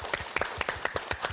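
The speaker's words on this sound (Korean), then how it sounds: "박수로 맞아주십시오" Applause from a studio audience welcoming guests onto the stage of a television talk show, heard as a short burst of clapping with distinct, fairly regular claps at moderate distance.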